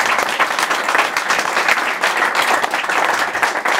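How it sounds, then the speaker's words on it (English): An audience at a Q&A session applauds, dense, even clapping from a sizeable crowd that stays loud and sustained without a break. "One more round of applause for Mr."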